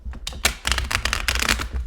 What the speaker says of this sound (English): That's a better shuffle.